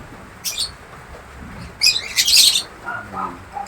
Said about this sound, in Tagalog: Parami na yung ating mga African bird